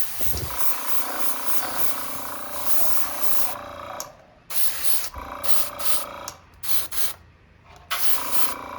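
An airbrush mists clear coat onto a model car spoiler in a hissing spray, steady at first, then broken into several short bursts with brief pauses between them.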